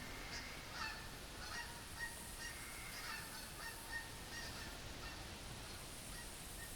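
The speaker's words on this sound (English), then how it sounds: "There go the noisy geese overhead." Geese honk overhead in the farming video game Farming Simulator, a scattered series of faint, distant calls above a steady outdoor noise bed.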